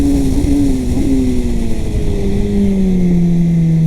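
A Kawasaki ZX-10R sport bike accelerates hard on a track with its front wheel lifting, its loud, near engine note holding steady and then sliding lower in pitch as it shifts. No one speaks.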